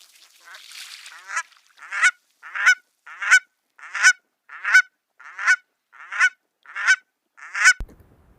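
Cackling geese give a steady series of about ten sharp, high honks at even spacing, loud and close, after a brief clamor of overlapping calls at the start.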